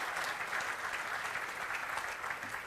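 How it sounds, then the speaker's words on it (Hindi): Dense, even applause from a large hall audience at a national memorial award event in India, a steady wash of clapping heard at a distance and fairly soft throughout. "मैं उनके लिए चाहूँगा ज़ोरदार ताली बजाइए"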